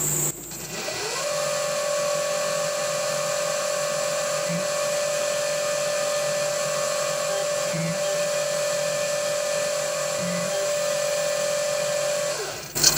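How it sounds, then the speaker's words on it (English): A drill press runs with a steady high whine for several seconds as a bit, advanced by hand with the quill, cuts through a metal part held in a vise, spinning up and winding down at the ends. "I'm just drilling that manually, um, advancing the tool bit, using the quill."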